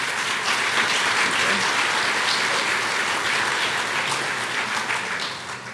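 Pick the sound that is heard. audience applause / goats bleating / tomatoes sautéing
audience applause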